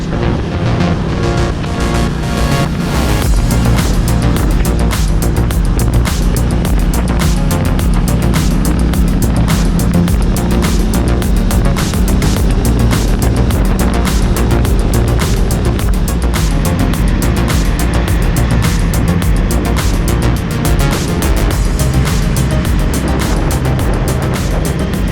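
A Triumph Bonneville T100 motorcycle rides through a series of turns, its engine drone steady and close with loud wind rush buffeting over it throughout.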